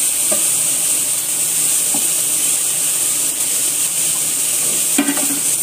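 Cooked rice for carrot rice is tipped into a hot pan. A loud, continuous sizzle and hiss fill the sound, with a few soft scrapes of stirring and a brief clatter near the end.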